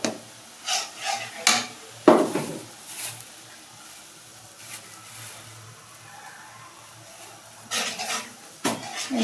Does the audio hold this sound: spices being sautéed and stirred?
yes